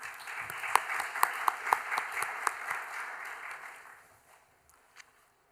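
Brief applause from a small group at a local area forum meeting, scattered claps over room tone that thin out and fade after a few seconds, ending with a single late clap.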